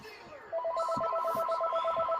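A phone ringtone trills in a quick repeating electronic pattern during a live sports-watching stream, starting half a second in and continuing over faint background voices.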